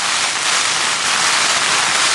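Rain and strong, blustery wind lash a flooded winter camp on Dartmoor, a loud, dense, continuous hiss of driving rain and gusts with no speech.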